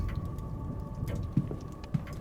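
Rain falls in the video game Séance of Blake Manor as a steady low rushing patter, with a faint hum and two soft thuds near the end.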